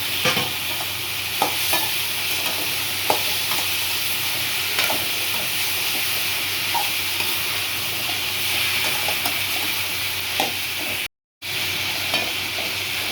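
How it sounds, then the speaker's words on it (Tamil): Moringa drumstick pods go into a pot of coconut-based curry and get stirred, a steady close sizzle with repeated scraping stir strokes and small clatters, briefly cut to silence once, no talking. "இப்போ முருங்காய் இதில் போட்டுக்கலாம்"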